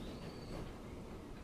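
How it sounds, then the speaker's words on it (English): A big train rolls along in the video game Transport Fever 2, giving a continuous rumbling rail noise with a faint high wheel squeal over the top, steady and fairly quiet. "Really big train."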